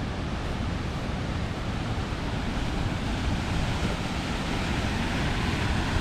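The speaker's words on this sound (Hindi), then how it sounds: "ये आप यहाँ पे इस ब्यूटीफुल वाटरफॉल को देख सकते हो।" Steady broadband rush of a mountain waterfall on a Kashmir trek near Naranag, constant and fairly loud throughout with no talking.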